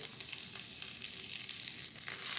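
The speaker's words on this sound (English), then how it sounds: "we're going to use some of this lard, ready, to keep the flavour going all the way through it. Take your onions, pop your onions in." Onions fry in lard in a pan for onion gravy, giving a steady, even hiss of crackling fat with faint scattered pops throughout, moderately quiet and close, with no voices.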